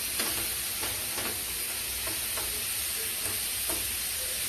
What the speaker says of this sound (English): like I said, we stir frying it